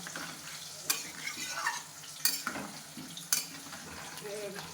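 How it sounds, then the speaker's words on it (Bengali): Spices with coriander powder frying in a pan as they are stirred well: a constant sizzle broken by three sharp metal scrapes or knocks of the spatula, close and fairly loud. "মা এখানে ভালো করে নাড়াচ্ছে, ওকে ভালো করে এটাকে একটু কষে নেবে"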